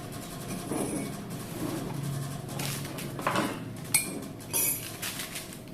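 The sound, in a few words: spoon stirring powdered milk into coffee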